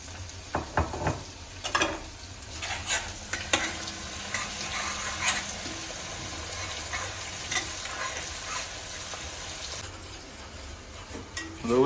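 Finely ground whole spices sizzle and crackle in hot oil with onion and bay leaf, a steady close frying hiss broken by repeated scrapes and clinks of a spoon stirring in the pan.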